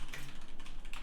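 Computer keyboard keys typed in a quick, steady run of close clicks, on real hardware used for DOS programming, with no voices.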